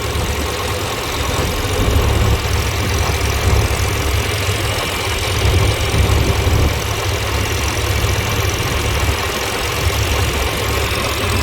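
A little John Deere A tractor engine runs steadily close by, a constant low rumbling drone with a faint knocking texture and no talking.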